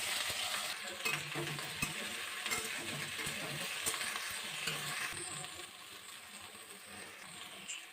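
Okra goes into a hot pan and fries for bhindi do pyaza, with quiet sizzling broken by sharp metallic clinks and stirring knocks that thin out toward the end.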